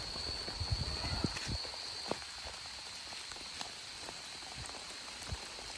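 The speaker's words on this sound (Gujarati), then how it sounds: "વરસાદ આવે છે" Rain falling outdoors during a monsoon shower, a soft steady patter with scattered close drops and light knocks, alone without voices.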